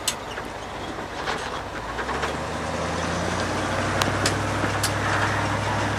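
A 1979 Dodge D150 Power Wagon 4x4 pickup drives through a neighborhood, its steady low engine rumble holding at close range with road and wind noise throughout and no talking.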